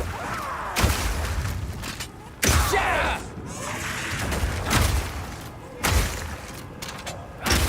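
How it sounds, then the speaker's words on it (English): In the Path of Exile 2 video game, a crossbow's Armor Piercing Burst Shot explodes frozen enemies: loud, close thumping bursts arrive in several waves, each followed by crackling, shattering debris over a steady game background. "Shooting a frozen enemy with Armor Piercing Burst Shot will explode the ice, doing a huge amount of damage to all nearby enemies."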